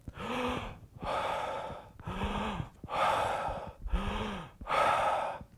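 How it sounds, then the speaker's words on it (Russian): Deep, slow breathing: six long, even breaths alternating inhale and exhale, close and airy, each roughly a second long with short pauses between, with no speech. "Когда я делаю глубокие вдохи и глубокие выдохи"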